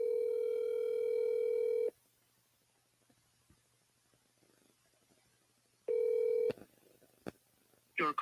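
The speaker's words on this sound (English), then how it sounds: "So we're going to give Tom a call right now." Steady telephone dial tone while placing a call, heard twice with a quiet gap between and a few clicks and a brief chirp near the end.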